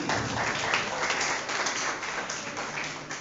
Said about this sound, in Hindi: हमारे लिए तालियां बजा लीजिए।